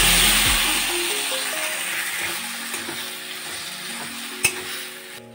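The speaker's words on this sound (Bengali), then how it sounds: "ম্যাশ করা সবজিগুলো এর মধ্যে এবার দিয়ে দেব।" Mashed vegetables stirred into frying onions in a pan for a Bengali vegetable chop filling, a close steady sizzle with scraping stir sounds that fades gradually, plus a single sharp knock near the end.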